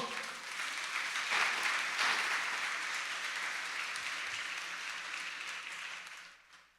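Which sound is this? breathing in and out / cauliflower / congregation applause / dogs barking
congregation applause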